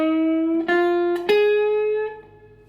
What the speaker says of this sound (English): So if I play that minor pentatonic but put the quarter tone bends on the flat 3, the 4 and the flat 7